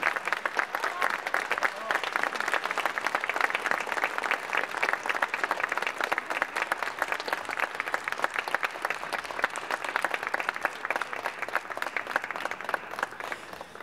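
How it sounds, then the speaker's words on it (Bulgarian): Sustained audience applause, dense and even, fills the whole stretch after a folk song and dance ensemble's performance at a night of choirs; no voices stand out over the clapping. "Нека ги изпратим с аплодисменти."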